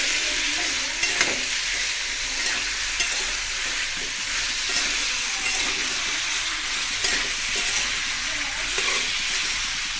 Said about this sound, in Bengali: তো দাঁড়ার আলু কিন্তু সুন্দর মতো আমি একসাথে কষাই নিব